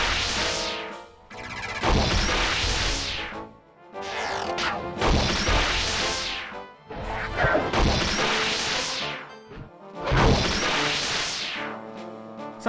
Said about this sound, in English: a domino effect that feels really good, especially with that death noise